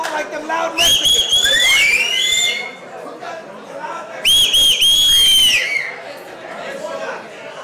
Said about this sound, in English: who can whistle like them loud Mexicans?